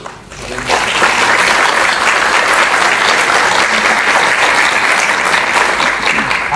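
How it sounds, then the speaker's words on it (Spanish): A conference audience gives strong, sustained applause to welcome the speakers. The clapping is loud and dense from start to finish, filling the hall without a break. "a quienes recibimos con un fuerte voto de aplausos"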